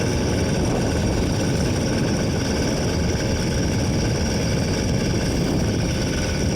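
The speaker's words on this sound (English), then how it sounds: "the motor seems to be running pretty decent now that I got it started" A motorized bicycle engine runs steadily after starting on a winter ride, a loud, continuous low buzzing drone with constant vibration and no breaks, no voices.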